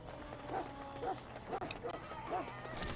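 Dog barking in Dragon Age: Origins, a run of four or five sharp barks at a steady rhythm over faint game ambience, with no talk.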